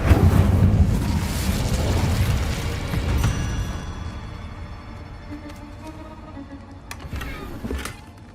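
An Incendio fire spell cast in Hogwarts Legacy erupts as a loud, close burst of flame. It then fades over several seconds into a softer rumble, with a couple of faint sharp flickers near the end.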